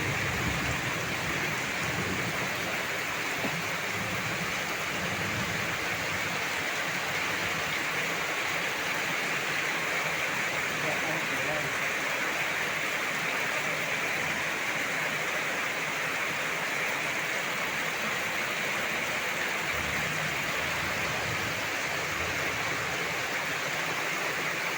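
Heavy rain pours steadily onto a house with a leaking tile roof, a dense, unbroken hiss and roar that holds at the same loudness throughout, with no voices.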